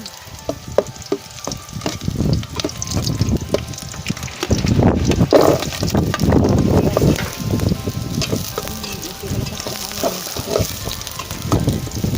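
Garlic sautéing in a hot pan gives a close, continuous crackling sizzle with scattered pops and scraping stirs, growing fuller in the middle and staying dense throughout, no talking.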